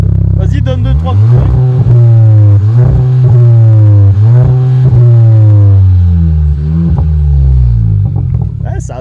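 Audi A3 S line engine revved in several short blips from a warm idle, each rev rising and dropping in a loud, deep, muffled roar heard close by, with people talking around it.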